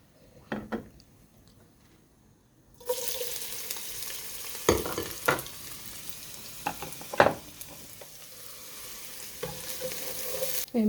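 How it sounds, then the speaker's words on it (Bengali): Okra curry cooking in a frying pan: steady oily sizzle starts abruptly after a quiet moment, with several sharp spoon-on-pan clanks and scrapes as it is stirred, close up. "এখন ভেন্ডি তরকারিটা বসাই দিই"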